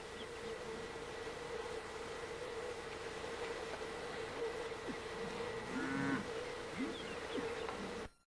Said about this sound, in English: Some of the cattle in the morning right outside the front door.